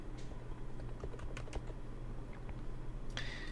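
Computer keyboard keys clack in a sparse, irregular run of light taps, close and fairly quiet over a steady low hum, with one sharper click near the end.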